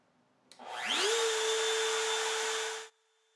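A homemade milling setup in which a router spins up with a rising whine and then holds a steady high-pitched roar while milling an aluminum block, loud and alone for about two seconds before cutting off abruptly.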